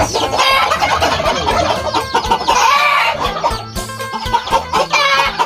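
A flock of chickens on a Thai farm clucks loudly and continuously while a rooster crows over them, the calls near and overlapping with no talk.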